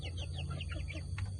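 Chickens cluck in a quick series of short calls early one morning, close and clear over a steady low hum, with a brief sharper squawk near the end.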